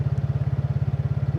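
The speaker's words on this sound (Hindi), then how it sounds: "अभी अगर मैं इसको रेस पे स्विच करता हूँ तो देख" A TVS NTorq 150cc scooter engine is switched to race mode, giving a steady, rapid low thudding pulse close by, with no voices over it.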